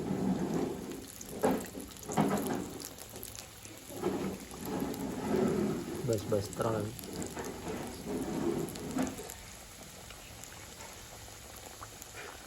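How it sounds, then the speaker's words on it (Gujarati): Samosas deep-frying in hot oil for a first homemade batch, a steady broad bubbling sizzle with surging bursts, close by, with a brief spoken phrase over it before the frying settles quieter toward the end. "પછી તળી લેવાના સમોસા"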